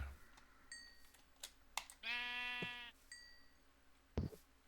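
Sheep bleat in the Minecraft modpack Blightfall, one drawn-out bleat standing out among faint clicks and keyboard typing at low volume.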